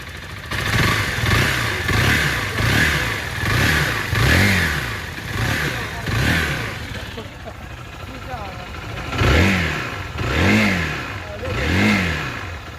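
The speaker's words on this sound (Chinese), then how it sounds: "听一下发动机的运行声音" A Zontes 350GK motorcycle engine runs close by, its throttle blipped in repeated rhythmic revs that rise and fall over a steady idle, loud and mechanical throughout.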